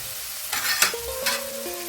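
Chopped onion frying with prawns in coconut oil, with a few scraping stirs and bursts of sizzle near the pan over a steady low hiss, and a faint high tone that rises and holds toward the end.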